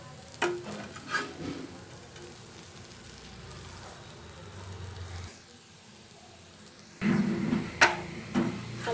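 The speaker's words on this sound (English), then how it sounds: "Keep it in medium flame and cook this cutlets." Sweet potato cutlets fry in oil in a pan over a medium flame, a low steady sizzle with a few soft clinks of a spatula and a louder burst of crackling near the end.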